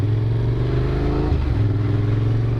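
A Yamaha MT-07 motorcycle rides through the small town of Vendôme, its mid-pitched engine droning steadily up close with a brief dip and rise in revs partway through.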